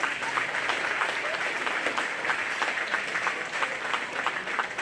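Sustained applause from a county fair audience, an even, fairly loud wash of many hands clapping that holds steady for several seconds, with no talk over it.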